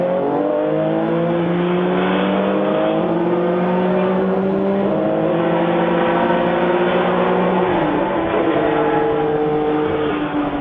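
Race cars, among them a 1974 Porsche 911 RSR, accelerate hard at the green flag, a dense roar of rising and shifting engine notes that stays loud and continuous with no talk.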